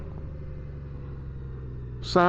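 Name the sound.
Yamaha pushrod motorcycle engine running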